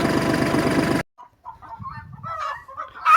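After a loud engine rumble cuts off, chickens cluck and squawk nearby in short, agitated bursts.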